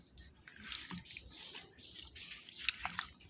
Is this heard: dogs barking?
no